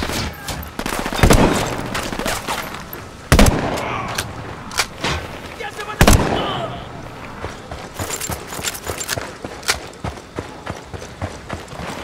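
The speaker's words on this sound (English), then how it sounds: "Shooting these fuckers." Bursts of gunfire in Ghost Recon Wildlands, with several loud sharp volleys standing out among a steady stream of smaller shots and game noise over about twelve seconds.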